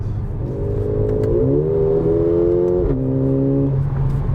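A 2018 Mercedes-AMG GLA45 engine accelerates hard, its steady loud drone climbing in pitch through two quick upshifts, each marked by a brief dip and a slight burble before the tone rises again.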